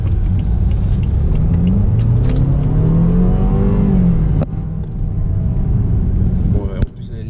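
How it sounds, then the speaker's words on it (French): A car engine revs up and rumbles loudly, pitch climbing and then dropping, a deep continuous roar close by. "le son moteur il est bien"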